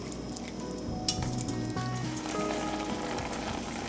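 Burdock root and soft vegetables cooking in soy sauce as the liquid reduces, giving a dense steady bubbling sizzle with faint utensil clinks, close and continuous.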